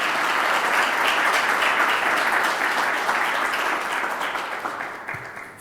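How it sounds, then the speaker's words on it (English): A press-conference audience gives a round of applause, a dense, sustained crowd clapping that stays strong and even before thinning out toward the end. "Let's give them a round of applause."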